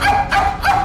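Three quick barking yaps in a row, a human voice imitating a dog, close and fairly loud.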